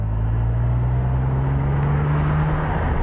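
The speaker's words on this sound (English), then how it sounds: "the sound of the exhaust now is just music" A BMW Z3's exhaust drones as a low, steady rumble while driving, with a sustained engine tone rising slightly in pitch, alone and continuous.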